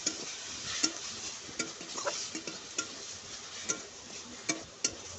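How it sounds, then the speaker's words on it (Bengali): Boiled jackfruit seeds and potatoes being stirred in a pan, a faint low sizzle under a regular series of light spatula taps and scrapes against the metal, close and quiet. "এরপরে আগের থেকে সিদ্ধ করে রাখা কাঁঠাল বীজ এবং আলুগুলো দিয়ে দেব। তারপরে নেড়ে চেড়ে ভালোভাবে কষিয়ে নেব।"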